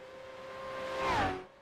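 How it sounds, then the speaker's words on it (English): V8 Supercar engines racing downhill at Bathurst in iRacing, a sustained high-pitched engine scream that climbs and then drops away as a car passes close by. "there's nothing like the sound of these cars screaming down the hill"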